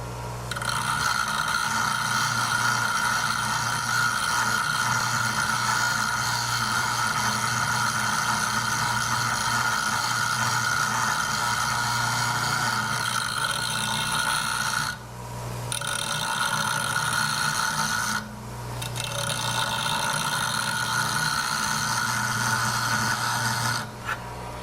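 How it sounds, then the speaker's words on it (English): A woodturning tool is ground on a bench grinder wheel using a Wolverine Vari-Grind jig, giving a steady close whirring hum and grinding scrape that runs continuously and breaks off twice briefly as the tool lifts away. "You want to be very careful when you're grinding the nose."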